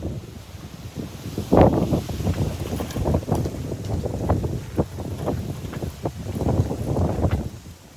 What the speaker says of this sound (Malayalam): ഇതൊക്കെ വെറും സാമ്പിൾ കാറ്റാണ് കേട്ടോ